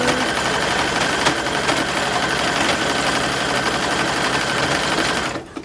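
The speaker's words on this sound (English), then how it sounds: "I'm debating potentially just overcasting that seam." A sewing machine runs steadily while overcasting a seam on a 1940s-inspired bathing suit, its fast, even mechanical whirr continuous and close for several seconds before stopping abruptly at the end.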